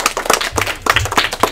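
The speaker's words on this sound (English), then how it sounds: "Let's give them a nice round of applause." Short burst of clapping for the coaches at a school news assembly, several hands beating quickly and unevenly at close range, with faint voices and low rumble mixed in.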